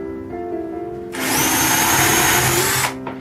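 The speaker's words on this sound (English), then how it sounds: "Do it on a test piece and then just drill all the holes out." A power drill bores through a test piece for a wooden Christmas tree: a low motor hum, then a loud, steady high-pitched whine as the bit cuts, lasting under two seconds before it stops abruptly.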